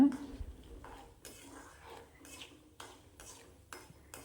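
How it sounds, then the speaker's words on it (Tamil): A spoon scrapes and clinks around a bowl in uneven strokes while mixing puli thokku ingredients, close up, with a soft mixing rustle between the knocks. "இது எல்லாமே போட்டு நல்லா கலந்து விட்டுக்கோங்க."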